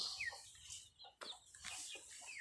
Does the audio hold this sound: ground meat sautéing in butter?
no